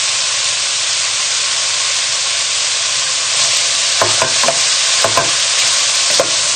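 Red onions sizzle loudly in a pan with a constant hiss, while a few scraping stirs knock and shuffle the slices around near the end. No voices are heard.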